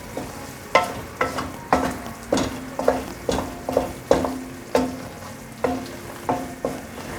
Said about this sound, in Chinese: 再继续不停的翻炒，把水分炒干